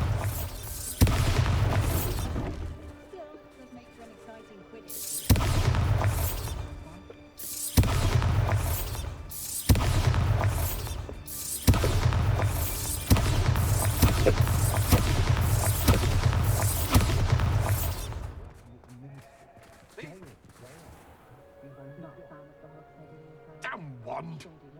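Repeated heavy booming blasts of the Bombarda explosion spell in Hogwarts Legacy, about six loud bursts in irregular succession, each with a deep rumbling low end and a trailing decay, fading into quieter ambience at the end.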